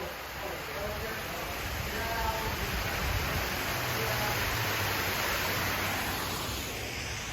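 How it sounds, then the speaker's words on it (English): A waterfall gives off a steady, moderately faint rushing hiss that continues unbroken throughout, with a high whining tone, likely from a nearby FPV drone, sitting on top of it. "look at the waterfall"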